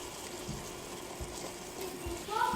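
Butter chicken sizzling in a pan as garam masala and ground coriander are stirred in, a soft crackling hiss with light scraping taps, fairly quiet and close.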